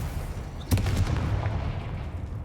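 A Confringo blasting spell from the Hogwarts Legacy video game fires as one sharp explosive crack, followed by a short rumbling tail over a low game background.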